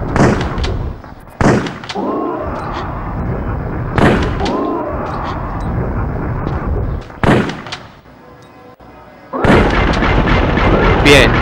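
A shotgun in Tomb Raider Chronicles fires about four loud, booming blasts spaced a few seconds apart, each with a reverberating tail. A voice cries out briefly between shots.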